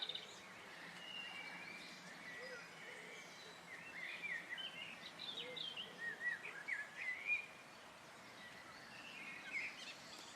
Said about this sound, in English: birds are very vocal at this time of day